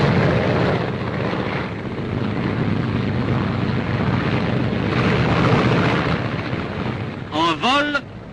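A wartime propeller airplane towing a large target panel drones steadily and loudly throughout, with a rough, broad engine roar, and a few brief sharp chirping sounds near the end.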